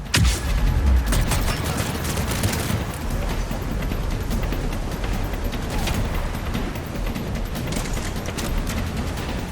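Gunfire in Mass Effect 3 during a firefight, a dense continuous barrage of shots with booming impacts, loud and sustained throughout with no pauses.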